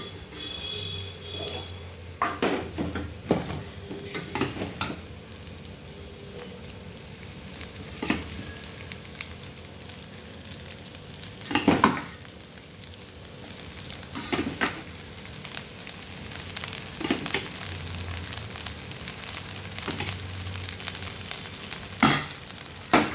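Paneer fried rice with vegetables frying and being stirred in a pan, with a steady low sizzle broken by repeated scraping and clinking strokes of the spoon, close and moderately loud with no talking.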